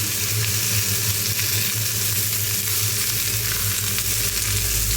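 Chopped ash gourd fries in hot oil in a pan, giving a steady, loud, continuous sizzle with a low hum underneath and no talking.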